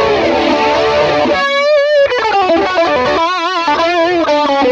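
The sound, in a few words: electric guitar with flanger and stereo chorus, Axe-FX preset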